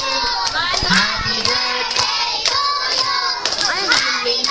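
Children and adults at a first birthday party clap along while singing Happy Birthday: loud, rhythmic hand claps sound through the whole stretch, mixed with voices singing and shouting nearby.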